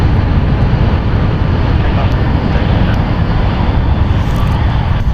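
A United Airlines Boeing heavy jet arrives at San Francisco International Airport, its engines making a loud, even, broadband roar that stays constant through the short stretch with no break or voice.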